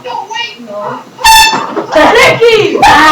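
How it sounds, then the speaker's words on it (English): An air horn blasts loud and close, in short harsh bursts among excited shouting voices. "You're gonna waste the air horn."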